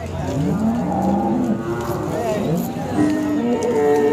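Khillar cows at the Sangola cattle market low with long, drawn-out moos, one after another, close by, under busy market chatter and people talking.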